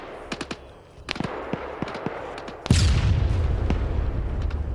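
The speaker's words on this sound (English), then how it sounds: "the SPG-9 fired at infantry. What was that explosion?" An SPG-9 recoilless gun firing in a military video game: sharp distant gunfire cracks, then a loud, booming blast whose rumble lingers and fills the rest of the scene.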